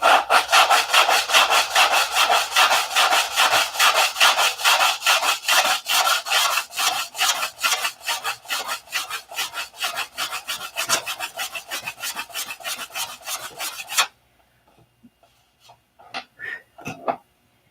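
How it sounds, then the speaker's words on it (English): Dried CA glue being sanded off a P-47 model aircraft: rapid, rhythmic rasping strokes, close and fairly loud, running steadily before stopping abruptly, followed by a few faint scattered scrapes. "We're going to see if we can get that sanded off"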